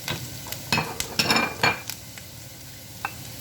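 Peppers being stirred into half-cooked cabbage frying in a wok for chicken chow mein, bursts of scraping and sizzling with spatula clatters against the pan, loud at first and quieter toward the end.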